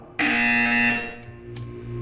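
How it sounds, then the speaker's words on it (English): A loud, steady electronic buzzer in the Portal 2 video game sounds for about three quarters of a second, then fades, followed by a couple of brief higher blips. "You will hear a buzzer."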